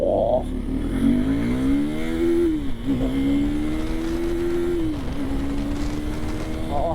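A 2024 KTM 390 Duke motorcycle accelerating hard to 100 km/h on a highway, its engine note climbing steadily in pitch with two quick gear shifts, loud and close with wind rush underneath.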